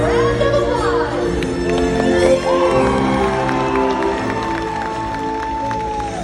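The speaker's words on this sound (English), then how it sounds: "let's give him a round of applause." Crowd in a marine park stadium cheers and applauds during a killer whale show, with whoops and children's shouts over blaring music and an amplified announcer talking throughout.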